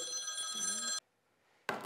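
A cell phone rings with a bright, steady electronic tone for about a second, then cuts off abruptly, leaving near silence before a short burst of noise.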